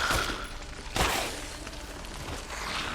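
Gunfire in the video game Resident Evil Village crackles in short bursts, with a sharp, louder volley about a second in and scattered shots after.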